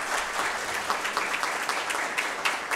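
Sustained applause from an audience at a city council session honoring a military police riot battalion, a dense, even wash of many hands clapping.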